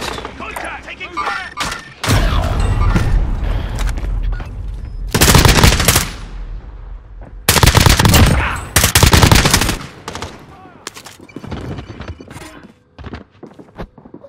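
Heavy gunfire in the Call of Duty video game: loud, sustained automatic bursts with long stretches of rapid shots, separated by quieter gaps holding scattered single pops.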